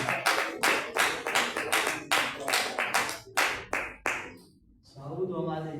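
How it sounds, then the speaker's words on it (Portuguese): A church congregation claps hands loudly in strong bursts for about four seconds, then the clapping stops and a voice begins speaking. "Bate palmas bem fortes para Jesus."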